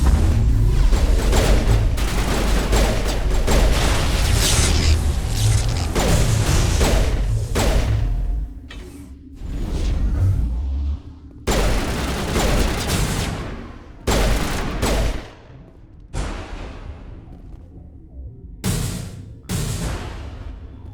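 Gunfire in a Mass Effect firefight inside a trapped lab, dense bursts of shots and heavy thuds hitting loud and close, then breaking into separate volleys with short silent gaps between them.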